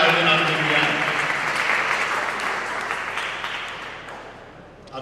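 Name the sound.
audience applause for the school team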